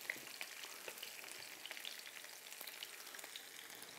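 Onions fry in a pan with a steady, soft sizzle and faint crackles, heard close and alone without any talk.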